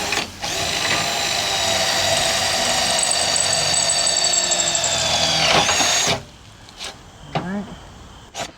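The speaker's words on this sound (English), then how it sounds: "I'm drilling out all the spot welds right now so we can take the front piece off." A drill bores out spot welds on a Miata's front section, a steady loud high-pitched whine running for about six seconds before stopping, with faint clatter afterward.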